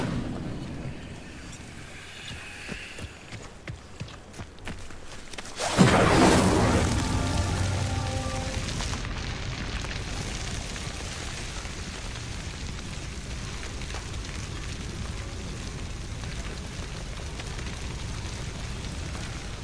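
The Incendio fire spell cast in Hogwarts Legacy: a sudden loud whoosh bursts up, then settles into a sustained, crackling roar of flame that runs on steadily for many seconds.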